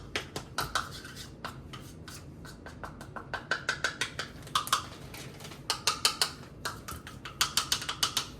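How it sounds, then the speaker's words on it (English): Granulated sugar whirring and rattling in a grinder as it turns to powdered sugar, a busy stream of close, repeated clicky bursts with no talking. "And I got to grind it for a while, too, because it just still be heavy."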